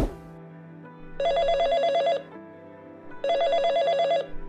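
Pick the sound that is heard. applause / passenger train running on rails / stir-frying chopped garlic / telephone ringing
telephone ringing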